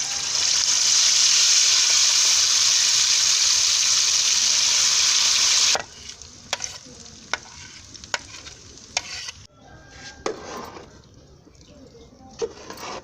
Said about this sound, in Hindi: अब इसमें हम डालेंगे दाल जो ग्राइंड की